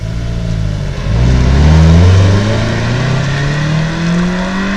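A Mazda Miata engine runs nearby, a loud, smooth drone that swells as the revs climb, then settles into a steady rising hum.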